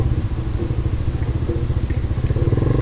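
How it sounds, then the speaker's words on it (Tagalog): A motorcycle engine runs steadily up close, its low, pulsing putter throbbing in a regular rhythm without letup, with no talk over it. "Hindi naman hirap yung motor natin."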